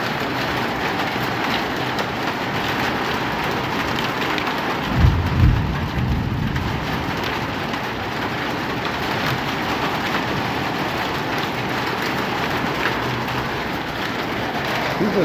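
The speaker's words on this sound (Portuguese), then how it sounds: "Chuva de granizo." A hailstorm pours down in a dense, continuous roar of hail and rain on surfaces, with a low rumble of thunder swelling briefly partway through, loud and steady with no voices.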